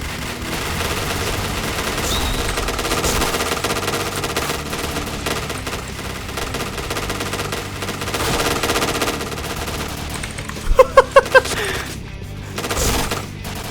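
Sustained automatic gunfire from a permanent gun in a shooting video game rattles at steady loudness for most of the stretch, ending with a short burst of distinct sharp shots near the close.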